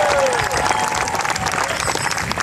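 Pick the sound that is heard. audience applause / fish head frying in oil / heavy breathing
audience applause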